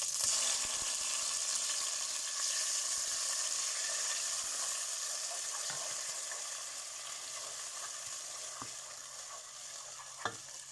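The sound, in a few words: onion and garlic frying in oil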